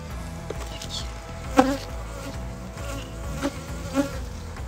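Honeybees buzz steadily around an opened, hard-to-work hive, a dense close swarm drone with a few sharper passes as individual bees fly near, no voices.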